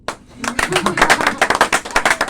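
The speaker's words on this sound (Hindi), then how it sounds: "इसके लिए भी ताली।" Guests at a birthday party clap for the host, a quick, uneven patter of hand claps building up after a brief spoken line and then continuing with some voices in the background.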